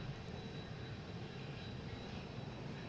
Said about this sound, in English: There is a Cessna Citation